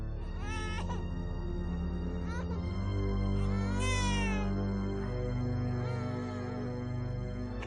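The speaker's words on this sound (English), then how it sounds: "The child's cries echoed down the hallways" A child crying in a supposedly haunted hallway: repeated high wailing cries with rising and falling pitch, close and fairly loud over a dense tonal background.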